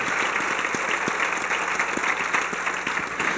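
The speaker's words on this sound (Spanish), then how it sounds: "Dale un fuerte aplauso a Dios por esto" Congregation clapping in church, a sustained round of dense applause with some sharper individual claps standing out, steady and fairly loud throughout.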